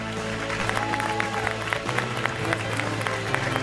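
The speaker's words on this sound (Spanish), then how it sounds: "Fuerte el aplauso para Teté Custarot, para Guillermo Pochi" Studio audience on a TV game show applauds steadily, a crowd of hands clapping under music and sustained tones, with speech mixed in.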